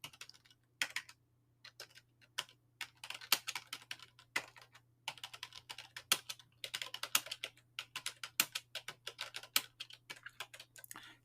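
Fingers type a text prompt on a computer keyboard in quick, irregular bursts of crisp clicks with short pauses between words, close and clear over a faint low hum, with no voices.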